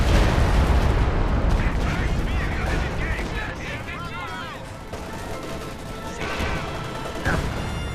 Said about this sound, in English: Artillery gun is missing like crazy. And another barrage.